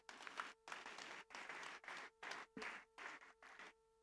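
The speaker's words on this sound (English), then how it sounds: "A big applause, please." Audience applause at a CINI 50th Foundation Day ceremony, heard as a series of short, evenly spaced bursts of clapping separated by brief gaps, fairly faint and with a steady hum underneath.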